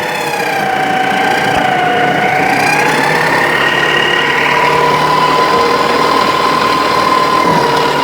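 A homemade machine assembled from spare parts, including a Spark motor, runs steadily with a continuous engine hum and whine whose pitch drifts slightly, loud and close throughout, with no talk.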